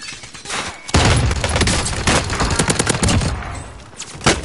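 Loud video game gunfire, a burst of rapid automatic shots and cracking reports starting after a brief quieter lead-in, clustered and then trailing off before one last shot.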